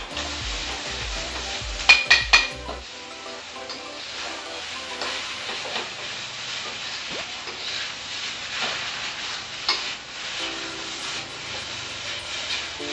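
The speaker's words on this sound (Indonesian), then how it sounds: "Oke, kita bikin telur ceplok setengah matang ya kalian." A half-cooked sunny-side-up egg fries in a pan for fried rice, a steady close crackling sizzle, preceded by a few sharp taps and clatters of cookware.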